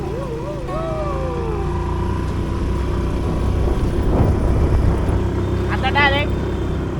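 A car engine labours up a steep hill road toward Matheran, making a steady low rumble and whir that swells slightly midway. People talk over it throughout.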